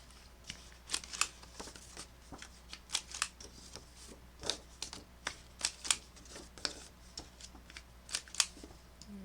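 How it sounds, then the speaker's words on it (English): Paper being cut with a corner rounder punch to round the corners of craft note pad covers, a quiet series of short crisp clicks and snips in an uneven rhythm, close and alone. "Now let's round our corners."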